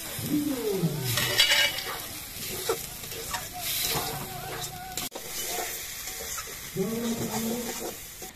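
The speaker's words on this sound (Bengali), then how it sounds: "এই টমেটো কুচিগুলো মাছের মধ্যে দিয়ে দেওয়া হচ্ছে।" Chopped tomato goes into loitta fish cooking in a pan, bringing steady sizzling and frying with stirring and a few scrapes of a utensil against the pan, heard up close without talk.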